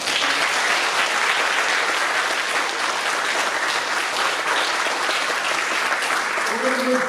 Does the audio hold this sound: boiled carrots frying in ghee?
no